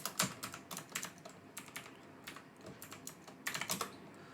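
Keys clatter on a computer keyboard as a terminal command is typed, in irregular bursts of close, crisp clicks with short pauses and a quicker flurry near the end, no voices.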